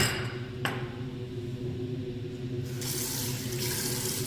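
A tap runs steadily into a sink while the face is wetted during oil cleansing, a close, continuous splashing stream at moderate level with a brief clink early on and brighter spray near the end.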